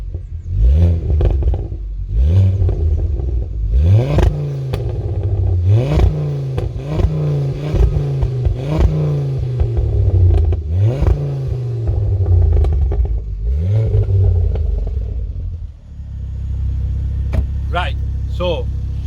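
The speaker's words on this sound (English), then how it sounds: "my car sounds that way because I've modded the exhaust system. I've put a Scorpion exhaust on, I've done a res delete, and I've also done a decat." Mk2 Focus ST engine with a modified Scorpion exhaust, resonator delete and decat, revving repeatedly in sharp rising bursts, loud and close, with a deep idle rumble between revs.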